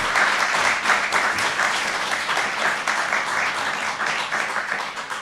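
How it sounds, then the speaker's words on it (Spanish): A live studio audience at a Vigo show claps in sustained, dense applause, steady and loud throughout with a faint voice underneath. "un aplauso para vostedes que estades aquí no público"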